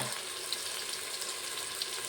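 Cashews and sliced onions fry in hot oil for a mushroom biryani, a bright, steady sizzle close up with a couple of faint clinks, continuous and without speech.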